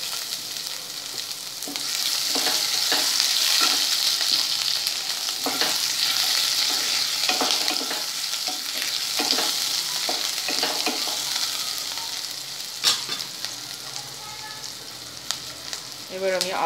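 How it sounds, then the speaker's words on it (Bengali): Chopped onion fries in oil with panch phoron for a prawn and pui shaak dish, giving a steady loud sizzle broken by regular scraping stirs of a spatula against the pan. "এবার আমি পেঁয়াজ কুচিটা দিয়ে দিচ্ছি।"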